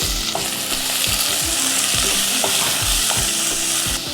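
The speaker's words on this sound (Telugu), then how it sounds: "ఈ ఉల్లిపాయలని 1 నిమిషం వేగనివ్వాలి." Three chopped onions frying with cumin seeds in oil inside a pressure cooker for paneer curry, crackling steadily and loudly while a spatula scrapes and knocks in quick, regular strokes.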